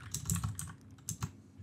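Code is typed on a computer keyboard: a quiet, close run of uneven key clicks with short pauses between bursts, no voices.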